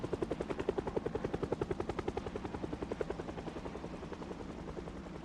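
Steady rhythmic thumping of helicopter rotor blades, loud and close at first and then gradually fading as the aircraft passes over and moves away during the Project Zomboid helicopter event.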